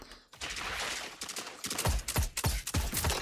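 Rapid bursts of gunfire in a Destiny 2 Zone Control PvP match: a sustained fusillade with sharp, loud shots clustering more densely toward the end, close and punchy with no talk over it.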